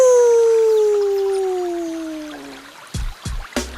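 Cartoon wolf's long howl, one sustained descending tone that fades out over a couple of seconds, followed by a few short sharp knocks or thumps.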